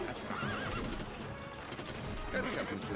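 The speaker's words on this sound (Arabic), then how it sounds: "الفرس تعدو" A horse in the video game Stronghold: Crusader neighs with a rising whinny over a steady clip-clop of hooves, close and moderately loud, while a voice talks in the background.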